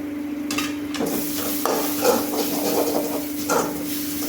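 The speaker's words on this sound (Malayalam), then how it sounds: "ഇത് വഴറ്റാനുള്ള എളുപ്പത്തിൽ മാത്രമാണ് ഈ അലുമിനിയം ചട്ടി ഉപയോഗിക്കുന്നത്." Onions sizzle steadily in an aluminium pan, with repeated scraping stirring strokes over a constant frying hiss.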